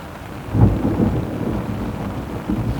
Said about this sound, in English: So it's actually impossible in this rain to do some proper mapping.